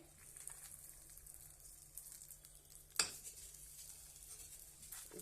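A tempering sizzles quietly in a pan for a radish bajji, with a faint hiss throughout and one sudden sharp spluttering burst partway through. No one speaks.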